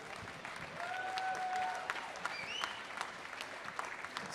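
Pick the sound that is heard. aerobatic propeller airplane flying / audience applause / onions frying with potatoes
audience applause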